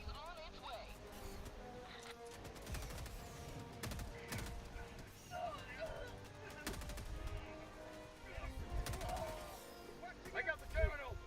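Gunfire and an orbital strike in the Helldivers 2 video game, with repeated sharp shots and blasts over a steady rumble of combat, while players talk throughout.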